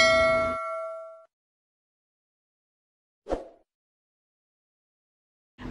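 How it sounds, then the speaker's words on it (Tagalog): A notification bell dings with a bright metallic clang that rings out and decays, followed by a short isolated knock and another ding starting at the end. "hit the notification bell to keep you updated"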